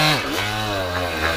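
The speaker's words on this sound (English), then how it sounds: "Rolling burnout? I'll try it." Motorized bicycle with a shift kit revving hard during a rolling burnout, a loud, close two-stroke engine whine that dips then climbs and holds a steady buzzing pitch.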